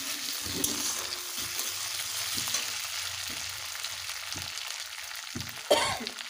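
Ground ginger, cumin and dried chili paste frying with browned onions for a Bengali rohu fish curry, giving a steady close sizzle with scattered soft stirring taps and a brief louder scrape near the end.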